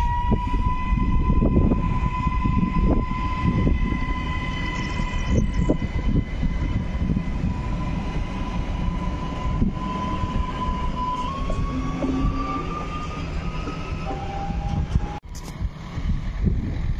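ŁKA Impuls 2 electric multiple unit pulling into a small station stop, a steady loud rolling rumble with a rising electric motor whine and a brief sharp bang near the end, no talk.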